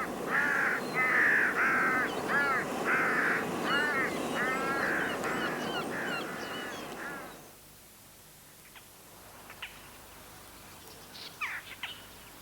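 A carrion crow gives a loud series of rhythmic, harsh caws for about seven seconds. Fainter, scattered calls follow against a quiet outdoor background.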